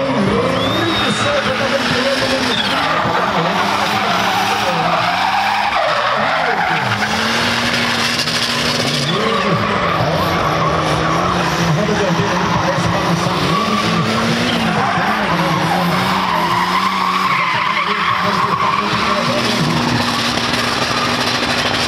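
A Chevrolet Omega drift car skids through a competition lap at a Brasília drift event, its engine revving hard under continuous loud tire squeal, with wavering pitch as the car slides from corner to corner throughout.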